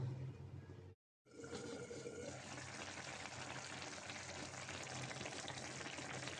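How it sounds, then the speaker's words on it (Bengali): Small fish curry bubbling steadily in a covered pan, a continuous close hiss and crackle of simmering liquid broken by one brief silent gap near the start. "মাছটা বলক এসেছে"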